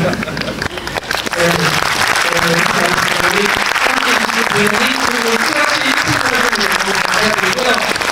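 A film screening audience at a Q&A gives sustained, loud applause that swells after a quiet moment and holds steady, with a person's voice speaking over the clapping.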